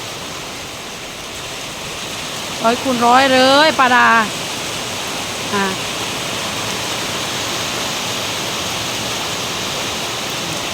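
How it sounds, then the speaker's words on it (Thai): Heavy storm rain pours in a steady, even hiss for the whole stretch; a voice speaks briefly near the start. "บรรยากาศฝนตก"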